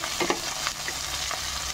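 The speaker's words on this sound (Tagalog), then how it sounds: "iginisa ko lang muna itong ating mga sangkap" Ingredients for a snail and fern dish being sautéed in a pan, a soft close sizzle with a few scraping stirs of a utensil, no talking.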